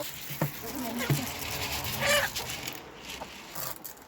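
Hens clucking in short, scattered calls at moderate distance, with some faint background noise between the bursts.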